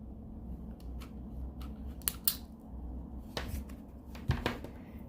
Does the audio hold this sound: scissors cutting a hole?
yes